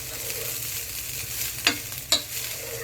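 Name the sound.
stirring chicken pulao rice in a pot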